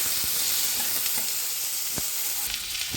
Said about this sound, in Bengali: এবার আমি এর মধ্যে ক্যাপসিকাম কুচি ও টমেটো কুচিটা দিয়ে দিলাম। এগুলো আমি বেশি ভাজবো না, হালকা ভাজবো।